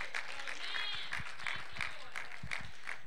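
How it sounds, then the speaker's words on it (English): Church congregation clapping hands in praise during a sermon, a rhythmic, moderately faint patter of many hands with steady beats, heard alone without talk. "Right now, give the Lord a good hand clap."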